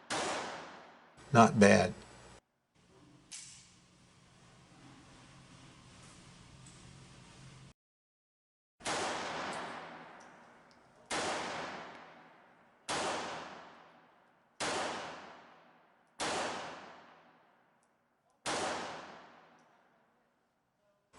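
Close shots from a Taurus PT 58 S .380 Auto pistol at a range: after an early burst and a brief spoken comment, six evenly spaced sharp reports ring out in a steady controlled rhythm, each decaying quickly.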